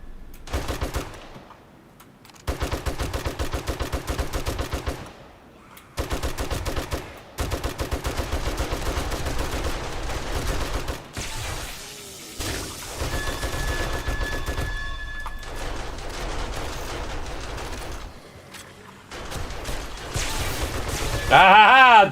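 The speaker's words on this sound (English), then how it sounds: "the turret slowed him down so he couldn't blow up" An automated turret fires in the survival video game 7 Days to Die, loud rapid bursts of gunfire repeating in long volleys separated by short pauses, with a few sharper impacts mixed in.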